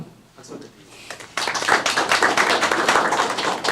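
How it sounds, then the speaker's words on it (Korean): Audience clapping at a Korean brand forum panel discussion breaks out suddenly and fills the room, dense and steady after a brief quieter stretch with faint voices underneath. "박수"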